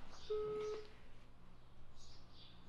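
A phone dialing a call, with a short steady tone early on, faint and close, followed by quiet line hiss and soft background noise.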